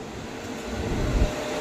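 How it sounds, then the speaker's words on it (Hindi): A train approaching on an Indian railway line, heard as a steady low rumble that builds slightly in loudness, close and continuous with no voices. "कोई सामने कोई ट्रेन आ रही"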